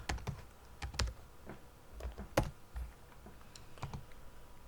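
Computer keyboard keys are typed in short, irregular bursts of crisp clicks while a button label is entered during game development, close and clear with no talking.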